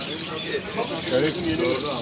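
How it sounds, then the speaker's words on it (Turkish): Busy chatter of many birds, chirps and coos overlapping, amid a crowded pet market in Kemeraltı, İzmir, with people talking nearby. "burası evcil hayvanlar, kuş sesleri."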